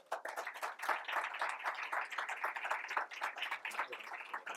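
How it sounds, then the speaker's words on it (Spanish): An audience applauds at a book presentation, a room full of quick, dense hand claps rising right away and holding a lively rhythm without pause. "Un fuerte aplauso."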